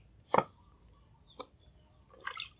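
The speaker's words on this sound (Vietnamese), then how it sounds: "Mình xắt ra miếng khoai." A knife cuts sweet potato into pieces for a mushroom soup. It lands in sharp, separate chops, one strong cut first, then a lighter one and a short cluster near the end, close by and with no talk.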